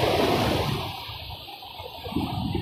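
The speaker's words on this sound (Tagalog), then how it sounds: "Ang lalaki ng alon, no?" Large ocean waves breaking and washing at a summer beach, a broad steady roar of surf that swells and fades across the moment, fairly close and loud with no voices.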